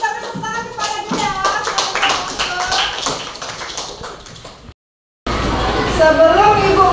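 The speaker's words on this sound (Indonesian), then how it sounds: "Kita beri tepuk tangan kepada dia." Students in a classroom clap for a classmate: a busy, continuous spatter of hand claps with voices mixed in, a brief drop-out, then more clapping and chatter.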